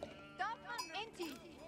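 Sheep bleating in the strategy game Age of Empires 4, a few short wavering bleats at low level, mixed with faint game sounds and a voice talking underneath.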